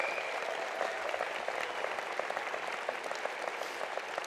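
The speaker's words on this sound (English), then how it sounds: "how about we give our huge round of applause for everybody before us?" Winter commencement crowd applauding graduates, a fairly faint but continuous spread of many hands clapping, heard from a distance in a large hall.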